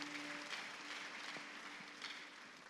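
A church congregation claps together, a faint, distant patter of hands over a low sustained tone, fading slightly toward the end.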